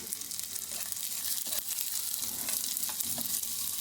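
Peanuts, sesame seeds and grated coconut are stirred in a pan, a soft continuous frying hiss with occasional scraping and rustling strokes, fairly quiet and close.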